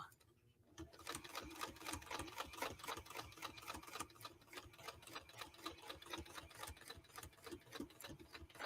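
A sewing machine stitches curves in quilting, a rapid, steady mechanical chatter that starts after a brief pause and runs close and continuous in uneven bursts as it slows and speeds.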